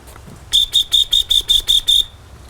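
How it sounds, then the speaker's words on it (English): A dog training whistle blows a rapid trill of eight sharp, evenly spaced high pulses, loud and close, used as a recall signal for a hunting puppy in a yard. "The trill means come to me"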